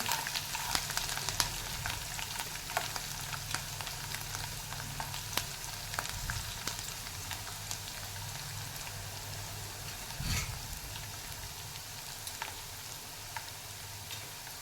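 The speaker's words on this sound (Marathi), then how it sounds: "हा लसूण आपल्याला एक दोन ते तीन मिनटं परतून घ्यायचा आहे" Finely chopped garlic sautéing in a pan for a Marathwada-style bhurka, a steady soft sizzle and hiss running throughout with occasional small crackles and light stirring clicks, fairly quiet and close, no talk.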